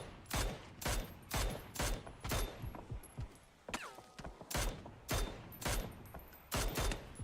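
Rapid bursts of video game gunfire, evenly spaced shots repeating steadily across the whole stretch with a short lull in the middle, loud and close with no talking.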